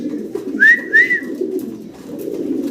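A pair of large Shaking pigeons gives two short, close coos in quick succession, heard over a steady low background hum.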